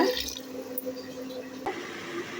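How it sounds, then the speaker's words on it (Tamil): Water pouring into a pot for Ambur-style chicken biryani made with half a kilo of rice, a soft splashing trickle that is strongest at the start and then fades to a faint, steady run with light drips. "அரை கிலோ ரைஸுங்கிறதுனால இதில் ஃபோர் ஃபிஃப்டி எம்எல் தண்ணி சேர்த்துக்கிறேங்க"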